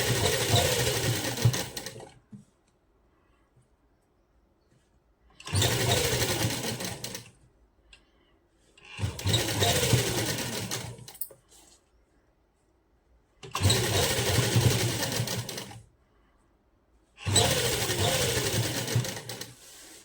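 A sewing machine stitches lace onto a plain fabric border in five separate bursts of rapid mechanical chattering, each about two seconds long, with short quiet pauses between them, close and clear.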